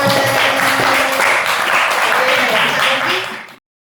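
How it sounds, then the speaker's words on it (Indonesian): A classroom of students applauds together in a loud, dense burst lasting about three and a half seconds before cutting off abruptly, with faint voices mixed in. "Tepuk tangan untuk kita semua."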